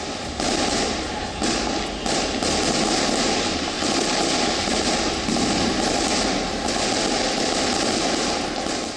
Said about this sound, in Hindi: जमकर हुई आतिशबाजी